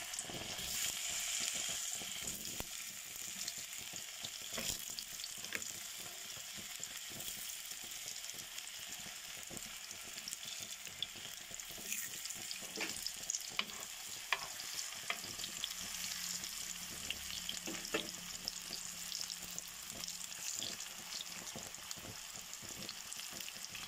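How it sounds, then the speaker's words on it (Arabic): Potatoes sizzle and crackle steadily in hot frying oil for Egyptian koshari, a continuous dense hiss with small pops and occasional stirring clatter, close and fairly even throughout, no voices. "دلوقتي انا هنزل البطاطس عشان احمرها."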